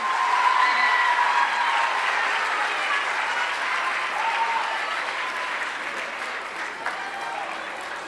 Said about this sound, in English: give them all a round of applause, our musical people